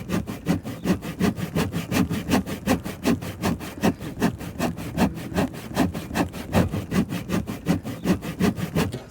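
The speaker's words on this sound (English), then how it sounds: "All I've got to do is cut it nice and straight with this great little saw I bought" A small hand saw cuts a straight line with quick, even back-and-forth strokes, about four per second, each a rasping pulse. The sawing is close, sustained and steady throughout, and no one speaks.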